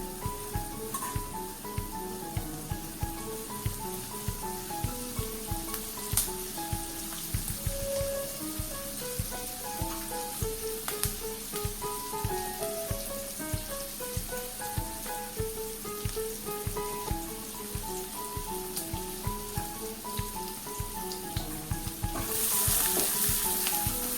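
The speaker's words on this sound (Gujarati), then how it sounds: "ડુંગળી ફ્રાય થઈ રહી છે." Onions frying in a pan for a curd potato curry, a steady close sizzle with scattered pops and stirring scrapes running throughout, louder near the end.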